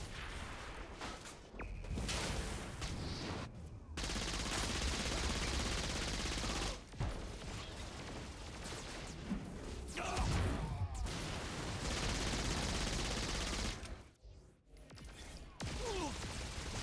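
A handgun loaded with explosive bullets in Saints Row IV fires repeated sharp shots, each ending in a burst, and the blasts cluster into loud, chaotic volleys amid hectic game action.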